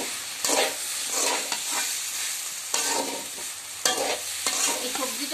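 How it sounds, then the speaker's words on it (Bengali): Lentils for a soft vegetable khichuri fry in a pan with a broad steady sizzle, broken by several loud stirring scrapes and knocks at uneven intervals. "এখন আমি সেই ডালগুলো দিয়ে দেব। আমি আবার একটু ভেজে নিব।"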